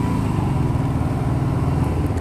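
A motorcycle pulls away in second gear, its engine droning loud and close in a steady, slightly labouring note that holds without clear revving.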